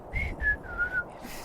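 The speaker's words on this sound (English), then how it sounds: "And she starts to whistle a little tune." A short whistled tune, four clear sustained notes stepping slightly downward with small pauses between them, close and alone.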